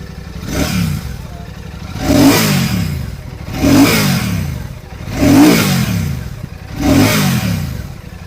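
Royal Enfield Bullet 650 with its 650cc twin-cylinder engine revved hard five times in a steady rhythm, each blip rising and falling back to a burbling idle, loud and close with no talk.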